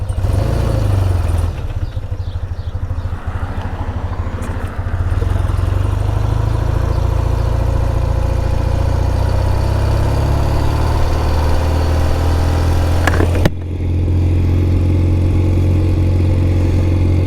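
A 1993 BMW R100GS motorcycle in Mystic Red rides along a street, its boxer engine droning steadily and close up. Wind noise runs throughout, with a brief dip near the end.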